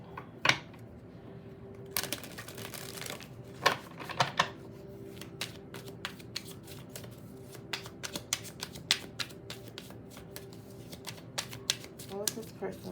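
Message cards being shuffled by hand, a run of quick crisp riffles and snaps spread through the whole stretch, close and moderately quiet, with a voice speaking over part of it.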